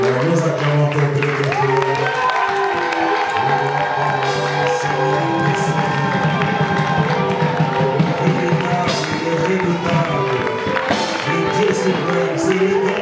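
A church congregation cheers and applauds for God through a dense, continuous wall of clapping and whoops, heard together with music and singing voices at steady high volume.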